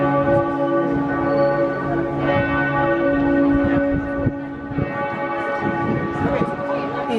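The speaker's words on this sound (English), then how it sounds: "And you can hear the cathedral bells going." Strasbourg cathedral bells ringing across the main square, sustained overlapping tolls with a steady tonal hum, heard at moderate distance over faint crowd bustle.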